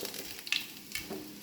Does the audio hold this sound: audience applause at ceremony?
no